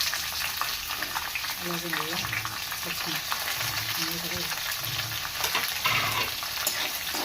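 Chopped onions sizzle and fry in a hot pan, a steady close crackle with occasional stirring scrapes, while a voice speaks briefly over it.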